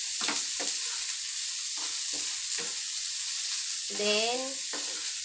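Corn, peas and carrot are stirred into kimchi fried rice in a hot pan, a bright steady sizzle broken by spatula scrapes, with a brief spoken word.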